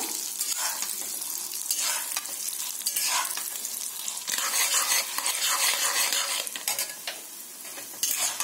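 Urad dal and dried chillies frying in hot oil while being stirred, giving a steady bright sizzle with continuous scraping and stirring, close up and with no talk.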